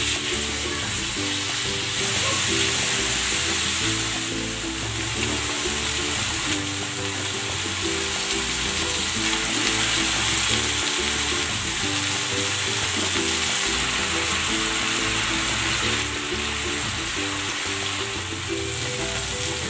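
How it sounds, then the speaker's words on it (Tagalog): Marinated chicken pan-fries in hot cooking oil, giving a steady, close sizzle and crackle with faint stirring and utensil clinks throughout, and no talking. "Maglalagay ako ng cooking oil. I-pan-fry ko muna itong minarinate nating chicken."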